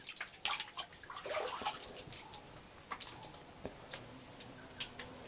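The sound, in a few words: spring water streaming and flowing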